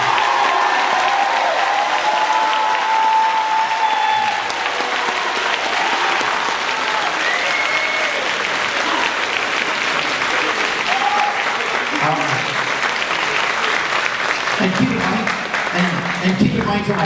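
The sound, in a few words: applause at a high school holiday concert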